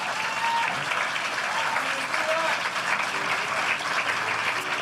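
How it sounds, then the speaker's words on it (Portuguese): A church congregation applauds at a Portuguese-language worship service, with steady dense clapping running through the whole stretch and a voice faintly audible beneath it. "Você pode aplaudir a Jesus pela vida do Just ministério?"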